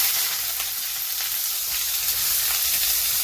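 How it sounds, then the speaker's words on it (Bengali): Chopped onions fry in hot oil in a pan for a spicy Bengali chicken kosha, producing a close, steady crackling sizzle with faint scattered pops and no voices over a few seconds. "এবার সবার আগে এখানটাতে এই কুচো পেঁয়াজগুলো আমরা দিয়ে দেবো এর মধ্যে ভাজার জন্য।"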